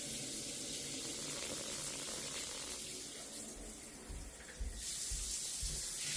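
Water spraying from a hose or nozzle in a steady, loud hiss that holds throughout and shifts in tone partway as the spray changes, close by, with no talking.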